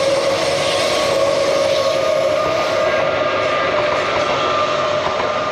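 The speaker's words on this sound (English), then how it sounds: "And it sounds like another train is actually coming behind me." Passenger train running on the line from Fremantle toward Perth, a loud continuous rushing rumble with a steady whine as it passes close by, no voices heard.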